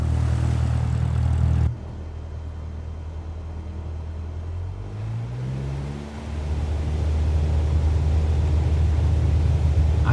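Cessna single-engine propeller airplane taking off in Microsoft Flight Simulator 2024, a loud steady engine drone that briefly shifts and dips, then rises back to a strong, sustained roar.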